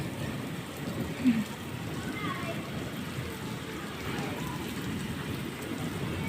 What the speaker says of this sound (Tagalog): Unang ulan ng Qatar.